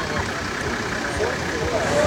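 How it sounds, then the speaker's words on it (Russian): A car engine idling after being dug out of sand and started, a low steady rumble running throughout under people talking nearby. "Машину завели, все работает."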